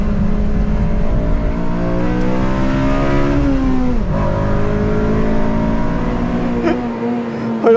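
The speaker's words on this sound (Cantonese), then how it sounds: "去到8000轉嘅聲，好得人驚。" A Honda Civic Mugen RR engine revs hard to 8000 rpm, a loud, continuous mechanical howl that climbs steadily in pitch, dips briefly midway, then climbs again.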